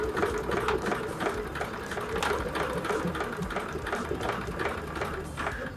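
A sewing machine stitches around an appliqué piece on a large clutch bag, running steadily with a dense, rapid mechanical rattle and faint irregular clicks throughout.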